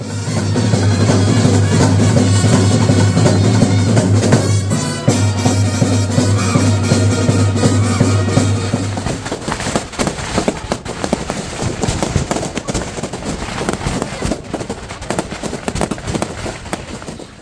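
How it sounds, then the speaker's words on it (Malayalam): Fireworks at a Kerala perunnal festival crackle and pop in rapid bursts, loud and continuous, following a steady low droning hum that cuts out partway through. "നമ്മുടെ വെടിക്കെട്ടോട് കൂടി പെരുന്നാൾ അവസാനിക്കുകയാണ്"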